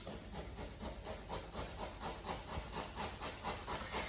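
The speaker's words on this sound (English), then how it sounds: "grating cucumbers." Fresh cucumbers grated by hand in a kitchen while making a Greek gyros wrap, a steady run of quick rasping strokes, about four per second, close and moderately loud with no talking.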